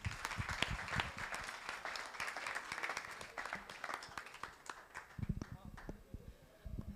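Seminar audience gives another round of applause, fairly faint clapping with sharp individual claps, mixed with talk and shuffling throughout.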